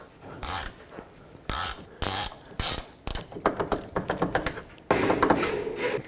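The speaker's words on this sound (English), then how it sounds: "I'm going to take my wrench, slide it over the nut. I'm going to hold the stud while I take the nut off." Wrench turning a nut off a control arm bushing stud on a 2001-2007 Volvo V70: sharp metallic clicks and ratcheting clatters in short bursts, then a quick run of rapid ticks, close up.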